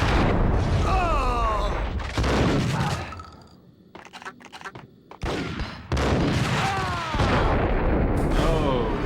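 Gunfire in the video game Max Payne: dense bursts of rapid shots and booms in several loud clusters, broken by a short quieter stretch of scattered single shots.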